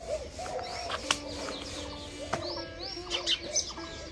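Several birds call and chirp in short, scattered bursts against a soft outdoor background, some calls nearer and sharper, others distant.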